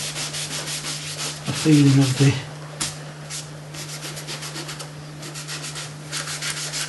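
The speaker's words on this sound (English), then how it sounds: "I'm going to rub it in lines like this" Brush or cloth rubbed in steady strokes across a watercolour painting of a yacht in evening light, softening rays of light; soft continuous scraping texture, close, with a brief spoken phrase partway through.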